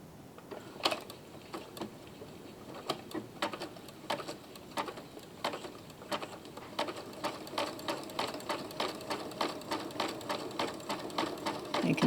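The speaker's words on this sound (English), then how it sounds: "I'm just going to start the machine with a regular zigzag" A sewing machine runs a regular zigzag stitch through fabric fitted with a beading foot, a rapid mechanical ticking that starts in uneven bursts and then settles into a fast, steady rhythm up close.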